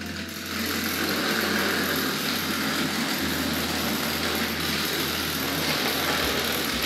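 A Hornby Class 29 model locomotive running under power, giving a steady, continuous electric motor whir and hum that stays close and even throughout, with no voices.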